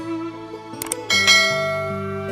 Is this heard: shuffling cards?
no